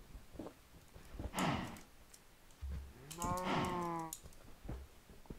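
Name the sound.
cows mooing in a video game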